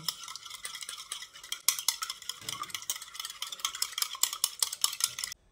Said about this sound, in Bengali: এবার একটা হুইস্কের সাহায্যে ডিমটাকে ভালো করে বিট করে নিচ্ছি।